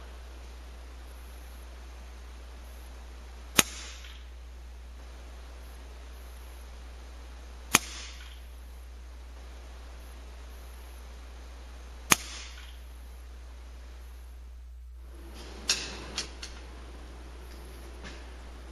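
A PSA Ultra .17 caliber PCP air rifle fires three sharp, isolated cracks spaced about four seconds apart over a faint hiss, followed by a few quieter clicks near the end.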